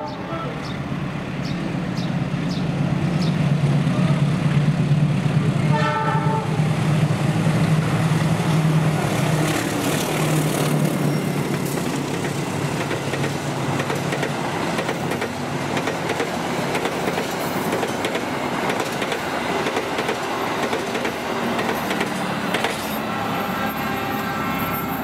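Argo Cirebon KA20F passenger train, bound for Tegal, rolling past a trackside spot near Bekasi Timur; a loud, continuous rumble of wheels and carriages fills the whole stretch, with a brief horn-like tone early on.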